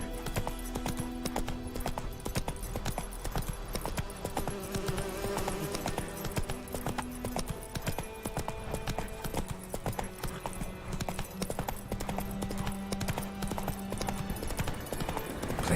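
Roach the horse gallops through The Witcher 3, rapid hoof clip-clop drumming steadily and close throughout over a musical game score, with a brief whinny-like tone possible.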